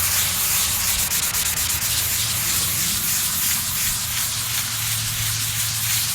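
Clear coat residue is sanded off a van's sun-damaged hood with sandpaper, giving a loud, continuous close-up rasping rub with a steady back-and-forth rhythm and no talk.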